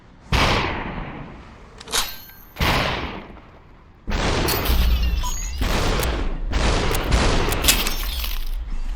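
Pistols fire in a shooter video game, loud sharp shots breaking into a dense, continuous barrage of blasts and crashes partway through.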